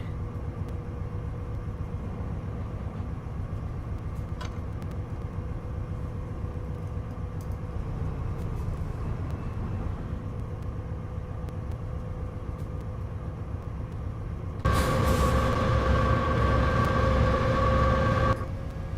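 BNSF diesel locomotives on the Montana Hi-Line in Train Sim World 2022 drone steadily with a low engine rumble, swelling louder and brighter near the end as the throttle is notched up.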